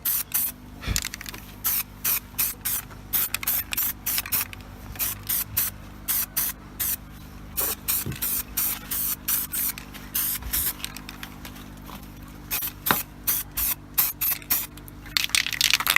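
Primer sprayed onto a Hyundai Tiburon strut bar in quick repeated hissing bursts from a nearby can, short passes with brief gaps between them.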